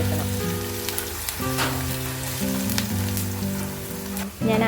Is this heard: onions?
yes